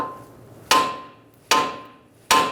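Three evenly spaced, loud metallic hammer blows strike a tie rod end on a 2000-2007 Ford Taurus, each a sharp close impact ringing off briefly.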